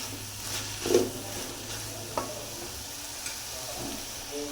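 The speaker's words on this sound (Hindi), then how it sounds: "इसमें डालेंगे अब हम प्याज। प्याज डालने के बाद अच्छे से मिक्स करेंगे" Onions frying in a pan, a continuous gentle sizzle with a few soft scrapes and knocks as they are stirred, close but fairly quiet, no voices.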